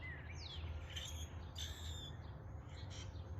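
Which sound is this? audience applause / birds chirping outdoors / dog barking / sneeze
birds chirping outdoors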